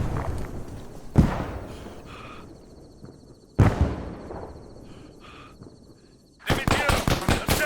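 Automatic gunfire in the video game ArmA 3: two heavy, echoing single blasts a couple of seconds apart are followed by a loud, rapid burst of automatic shots at close range.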